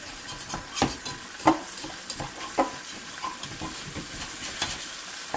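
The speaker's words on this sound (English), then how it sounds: "So let's scrape the sides off because we want all these little crumbs here" A spoon scrapes browned bits from the sides of a hot pot of sizzling Southern pot roast drippings for gravy, with a few sharp scraping strokes over a steady frying hiss.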